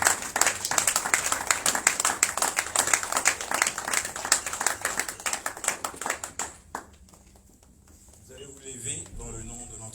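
A church congregation claps rhythmically and loudly for an evangelist for several seconds, then the clapping stops and a voice speaks over an amplified system.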